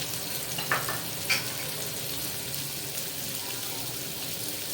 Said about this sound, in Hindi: ये जो लहसुन लिया था ये भी इसमें मैं डाल रही हूँ। ये लहसुन भी ठीक है, ये अंदर फ्राई होगा।